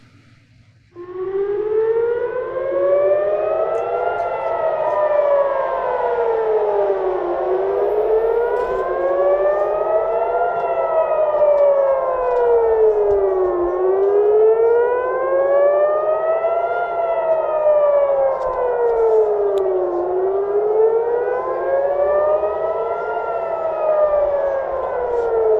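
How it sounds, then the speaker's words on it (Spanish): Air raid sirens wail at night, their pitch rising and falling in slow overlapping sweeps, loud and steady throughout, with no voices. "el canto de las sirenas, entre comillas, en realidad"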